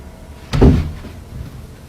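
A door swings and bumps shut in a quiet house at night, a single short knock-like thud followed by a faint creak and a soft second tap, then stillness.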